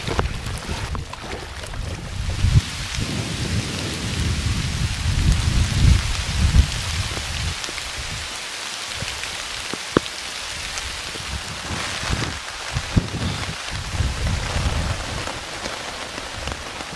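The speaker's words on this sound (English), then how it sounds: "Yep, it's raining. Just heard some thunder." Steady rain patters on a surface at a lake in the Adirondacks, with low rumbles of thunder rolling in the background and a few sharper knocks.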